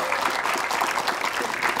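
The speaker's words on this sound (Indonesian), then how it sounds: "Tepuk tangan dong buat Ibu Tofi." Studio audience clapping at an Indonesian talk show, a dense, steady patter of many hands sustained throughout.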